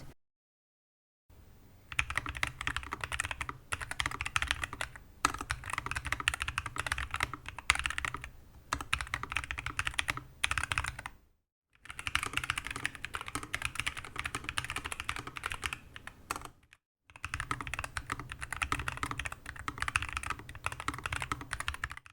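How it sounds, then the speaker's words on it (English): Clacky typing on a modded Nuphy Air60 V2 mechanical keyboard in several bursts separated by short silences, close and crisp, with no talking. "So now onto the typing sound tests."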